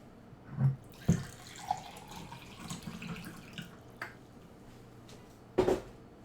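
Tap water runs into a jug in a kitchen, with a soft continuous flow broken by a few sharp knocks and clinks of handling nearby.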